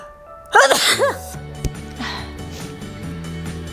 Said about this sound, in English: I was fighting the sneeze.